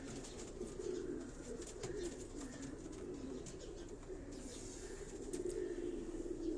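Pigeons on a rooftop in Karachi coo in soft, low, continuous throaty rolls, close by, with faint background hiss and occasional light ticks, and no talk.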